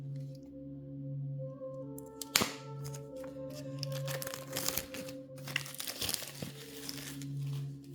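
The plastic packaging of an oracle card deck is crinkled and torn open by hand, with close, irregular crackles and a sharp snap over a steady background hum.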